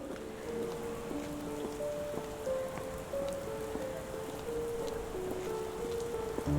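Steady rain falls in a Sherlock Holmes The Awakened game scene, a soft continuous patter on surfaces with scattered drops, faint and even throughout, with a low tonal music line running beneath.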